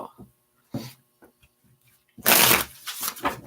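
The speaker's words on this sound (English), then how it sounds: "Last shuffle." A deck of tarot cards is shuffled, with a couple of soft card flicks followed by a loud, close riffle burst and then several shorter ruffles.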